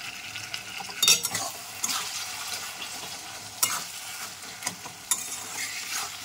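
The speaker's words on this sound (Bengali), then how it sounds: "এবার আমি এইভাবেই কষাতে থাকবো যতক্ষণ না তেল ছেড়ে আসছে" Chicken sautéing in oil in a pan with a low background sizzle, broken by a few sharp spoon-and-pan scrapes and clanks as it is stirred at intervals, no speech.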